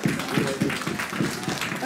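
Audience applause at a Cleethorpes Comic Con cosplay contest, a brief burst of clapping from a crowd at moderate distance with voices mixed in.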